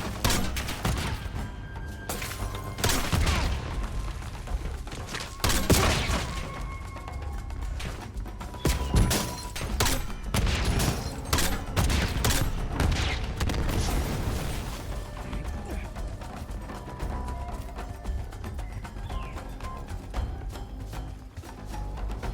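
Gunfire in the Call of Duty Black Ops 7 video game comes as dense bursts of automatic fire and sharp single shots. Booms and mechanical clatter are mixed in, loud and continuous over about twenty seconds.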